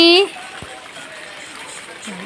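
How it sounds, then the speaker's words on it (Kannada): Light rain falls steadily outdoors, a soft, even wash of faint patter that continues after a brief voice at the very start. "ಮಳೆ ಬರ್ತಾ ಉಂಟು ಲೈಟಾಗಿ."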